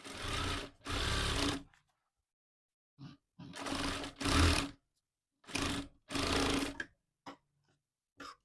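Sewing machine stitching the back part of a baby dress, heard close in repeated short bursts of rapid whirring, each a second or so long, separated by silent pauses.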